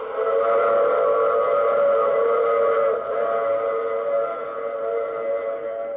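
A train whistle or horn sounds continuously, a loud steady multi-tone blast holding for several seconds with only a slight dip partway through.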